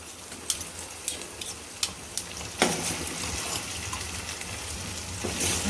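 Chili, ginger and garlic paste goes into cooked tomatoes in a pan for Kathiyawadi Girnari khichdi, a few sharp taps and scrapes of a spoon followed by a steady close sizzle and stirring that continues to the end.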